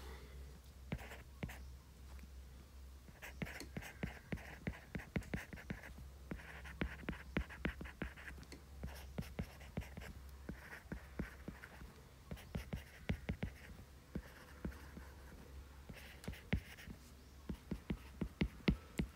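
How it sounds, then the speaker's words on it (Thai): Children write vocabulary with pencils in notebooks, a steady stream of quiet, scratchy strokes and taps that runs on without pause, faint and close, with no talking. "เขียนคำศัพท์กันเลยนะคะ"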